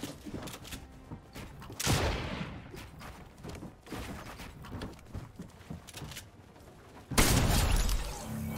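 Sniper rifle shots in a video game, two loud booming blasts separated by several seconds of lighter clattering game sounds, no voices.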